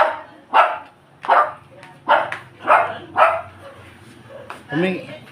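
A dog, no longer a puppy, barks nearby in five or six loud, evenly spaced woofs, and a last yipping bark comes at the end.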